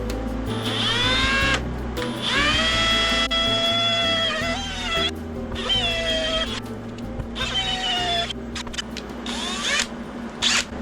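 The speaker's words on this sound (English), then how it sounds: "all you have to do is drill a hole in it" A power drill whines in several bursts, pitch rising and falling as it bites into a plastic gas cap to vent it for a 110cc dirt bike, with short pauses between runs.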